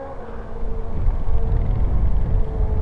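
A 2015 Kawasaki Ninja H2 sport motorcycle engine drones steadily at close range, building in intensity after the first second and holding a throaty, continuous roar.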